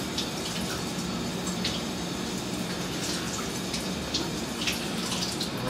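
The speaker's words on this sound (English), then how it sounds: "Rinse out all that high nutrient water" Tap water runs in a steady, fairly quiet hiss and splash as frozen shrimp fish food is rinsed in a sink, with no voices.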